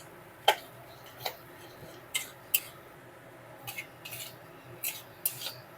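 Okra stirred with a spatula in a pan after sugar is added, cooked without onion or garlic: a few faint, scattered scrapes and clicks spaced irregularly over a quiet background.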